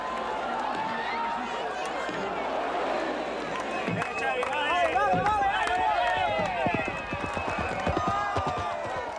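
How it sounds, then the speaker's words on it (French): Horse galloping with its rider through a dense crowd at the Sant Joan festival in Menorca, the hoofbeats a rapid drumming under loud cheering and a narrating voice. "Au grand galop, le cavalier fonce vers l'objectif."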